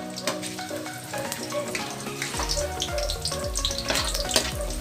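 Garlic sautés in hot oil with a loud, close crackling sizzle that grows busier partway through, while tonal music plays underneath.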